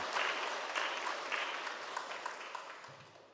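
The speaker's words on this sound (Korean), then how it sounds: "박수로 환영하겠습니다." A church congregation at a Sunday worship service claps in welcome, a brief burst of warm, close applause that slowly fades.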